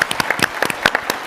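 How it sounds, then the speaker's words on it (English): Close, lively round of applause from an audience at a day-of-action gathering, sharp individual claps overlapping in quick irregular succession, loud and without speech. "just one big round of applause for this tremendous"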